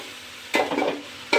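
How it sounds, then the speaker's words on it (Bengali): Whole spices such as cinnamon, cardamom and bay leaf being stirred in hot oil, two short scraping sizzles close by, with quiet between them and no talking. "গরম মশলা দারচিনি এলাচি তেজপাতা দিয়ে সব কিছু দিয়ে এভাবে ভেজে নিচ্ছে"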